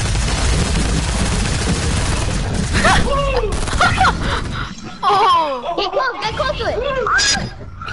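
Fortnite Battle Royale gunfire, scattered bursts of shots mixed with game sounds while several people talk and laugh over it.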